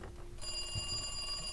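A telephone rings steadily in the survival horror game Resident Evil 2 Remake, a sustained electronic ring over a low game background hum, with no talking.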